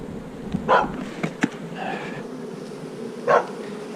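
Bees buzzing on a woodland walk, a low steady hum running throughout, with a dog's short barks breaking in a few times nearby.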